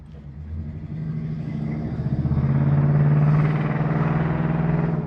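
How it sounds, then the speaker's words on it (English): A 1977 Oldsmobile Cutlass 442 engine idles with a deep, throaty exhaust rumble, swelling gradually louder as it revs up a little, close by. "Got a nice sounding exhaust on it."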